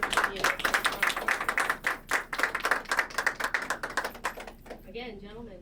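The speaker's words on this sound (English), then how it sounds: "Please join me in a round of applause" A crowd claps steadily in dense, rapid applause for about five seconds at a US Marine swearing-in ceremony, fading out near the end as a voice begins speaking.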